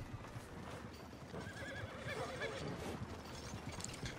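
A horse whinnies in the video game Red Dead Redemption 2, a faint, wavering neigh rising in the middle of the clip over soft hoof clip-clops and low background ambience.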